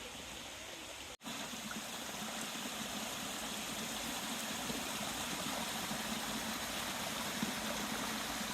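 A mountain stream flows steadily along a summer hiking trail on Bull Hill, giving a continuous, fairly faint broadband rush of water with one brief dropout near the start and no talk.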